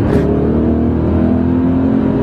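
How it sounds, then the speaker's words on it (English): A BMW E39 M5 engine roars steadily at high revs, a loud sustained drone with rising harmonic tones, under hard acceleration. "The throttle is that sensitive that you can hear the intake valves move with my foot."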